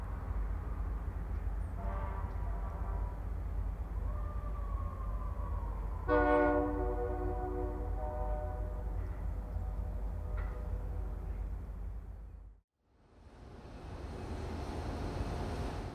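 Freight train locomotives rumble steadily past nearby as they bend onto a new section of track, with a horn sounding briefly and metallic squeals rising as they move along.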